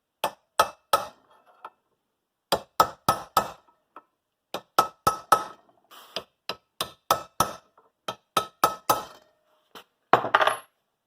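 A metal steering housing on a Cub Cadet 1882 lawn tractor being staked with a hammer, sharp metallic taps in quick bursts of two to five, close and fairly loud, with no talking.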